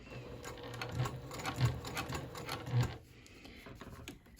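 Sewing machine stitching a fabric bowl cozy, a soft quick mechanical whirr in short bursts with a few ticks, close but quiet, stopping near the end.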